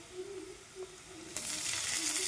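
Low background hum, then a sudden bright sizzle as green chillies hit hot oil in a wok, a loud crackling hiss that continues to the end.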